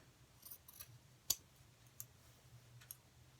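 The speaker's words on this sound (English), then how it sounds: "just cut all the way around until you have that end of the bag cut off" Scissors snip through the end of a plastic bag in a few quiet, separate cuts, one crisp click standing out, with faint rustling between.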